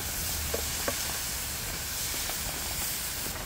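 Chicken and vegetables being stirred in a pan over a fireside chulha give off a steady, close sizzling hiss, with a couple of faint utensil scrapes and no talking.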